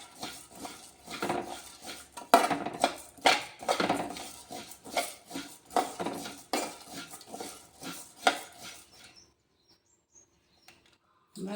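Rice and dal being dry-roasted and stirred in a pan on medium heat, with repeated scraping and clinking strokes of a spoon against metal in an uneven rhythm, close and moderately loud, fading out near the end.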